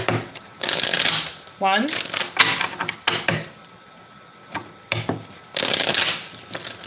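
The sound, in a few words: shuffling tarot cards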